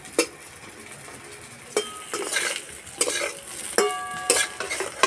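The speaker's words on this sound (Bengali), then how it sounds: "একটু আস্তে আস্তে ভাজলে খুব সুন্দর ভাজা হয়।" Eggplant slices fry slowly in a pan with a soft, steady sizzle, broken by several sharp metallic clinks and scrapes of a spatula against the pan. No one speaks.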